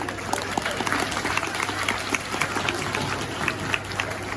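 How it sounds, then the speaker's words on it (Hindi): Scattered applause from a small audience at a Garhwali-language teachers' honouring ceremony, a thin steady patter of hands running throughout with a low background hum and no voice on top. "तालियां कम है भाई"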